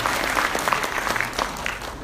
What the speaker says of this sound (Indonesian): tepuk tangan buat Dr. Diki Wika.